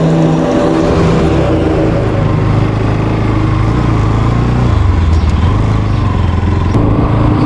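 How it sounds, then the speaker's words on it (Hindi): A motorbike engine runs loud and steady throughout a ride, its low drone rising and falling slightly, with constant wind rumble around it and no talking. "हम चलाएंगे बाइक। चलिए बाइक निकालिए।"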